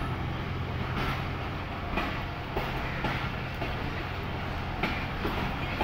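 The Jaffar Express passenger train running on rails, a steady rumble with rhythmic clatter and periodic knocks of the wheels, heard continuously from on board without any talk.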